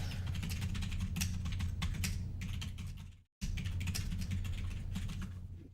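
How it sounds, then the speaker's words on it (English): Someone types on a computer keyboard in quick, steady bursts of clicking keys. There is one brief pause midway, and no one speaks. "Oh, man, I'm typing horribly."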